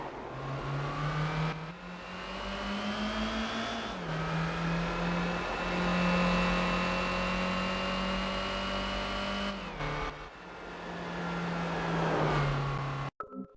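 Engine of a race car in the Gran Turismo PSP video game, loud and steady, revving up through gears out of a corner with pitch rising then dropping at shifts, continuous whine throughout.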